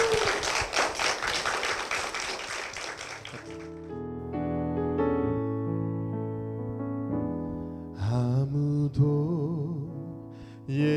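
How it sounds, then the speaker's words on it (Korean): A church congregation at a Full Gospel church claps vigorously for a few seconds in blessing, and the clapping then gives way to sustained instrumental music with a singing voice. "힘찬 축복의 박수 부탁드리겠습니다"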